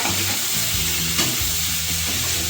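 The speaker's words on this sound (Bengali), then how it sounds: "এবার আমি এটা নেড়ে ছেড়ে," Bottle gourd and shrimp sizzle loudly and steadily in a pan while being stirred, with a brief scrape partway through, heard up close and without speech.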